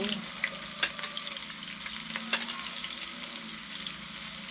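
Onion sautéing in a pan for chicken cooked with 7up, a constant quiet crackling sizzle with a few faint clicks and stirring sounds mixed in.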